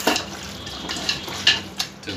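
A spiced beef mixture with mace and nutmeg paste being stirred in a pot for beef bhuna khichuri: soft wet scraping punctuated by a few sharp clinks of a utensil against the metal, close and without speech.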